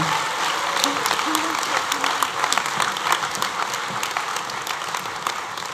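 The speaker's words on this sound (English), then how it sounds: "Can we have a final round of applause for" Graduation ceremony applause for fashion degree graduates: a sustained, dense round of clapping from a sizable audience, loud and continuous, with a voice briefly audible beneath it.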